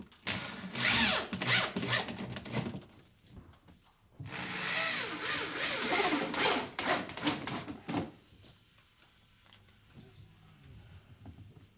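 A power drill drives 2.5-inch zinc-coated flathead square-drive screws with Woodmaster tips into wood, two loud whirring bursts with brief pauses, fading to quieter handling noise near the end.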